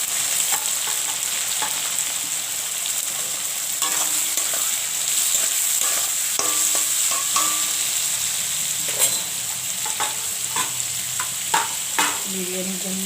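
Onion frying in a kadai with chili, cardamom and cloves for chicken biryani, a bright, close, steady sizzle punctuated by scraping stirring knocks throughout, with no speech.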